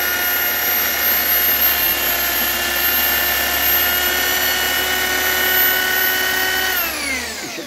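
A power drill spins an alternator built for a water turbine, a loud steady high-pitched whine with ringing tonal hum that holds evenly for several seconds before the pitch drops as it winds down.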